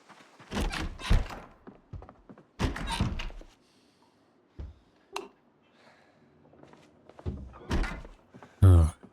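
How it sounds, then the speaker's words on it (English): Zombies thump on windows in Project Zomboid, producing heavy, irregular thuds in scattered clusters. Quiet gaps separate the groups of blows, and one sharp, loud knock lands near the end. "who's thumping on my bloody windows?"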